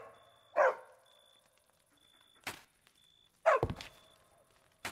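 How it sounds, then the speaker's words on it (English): Two short dog barks from a Minecraft video game, each a sharp burst with a brief follow-up yelp, separated by quiet gaps with soft thuds and faint tonal game sounds between them. "Too much barking."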